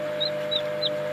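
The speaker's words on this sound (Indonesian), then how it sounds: "ini ayam tetasan kami yang sekarang sudah mencapai, yang sudah menetas itu sekitar 45" Young chickens hatched in a homemade egg incubator give three short, high peeps at an even pace. The peeps sound close and moderately loud over a steady mechanical hum.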